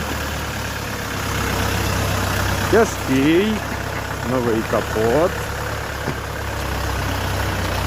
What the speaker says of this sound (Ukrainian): Трактор на 40 кінських сил, чотирьохциліндровий